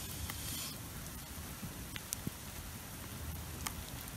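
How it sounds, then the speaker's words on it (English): Hail falls outdoors in Lake Elsinore during a mixed storm, a dense, even patter and hiss of small pellets with a few sharper isolated ticks, steady and moderately faint throughout. "right now it's just hail"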